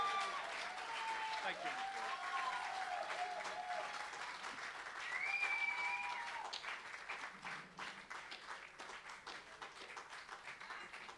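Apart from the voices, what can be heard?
audience applause at live show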